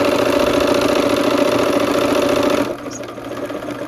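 A sewing machine stitches quilt pieces in diagonal rows, running with a loud, steady, fast motor hum and needle chatter for nearly three seconds before stopping, leaving a quieter mechanical drone.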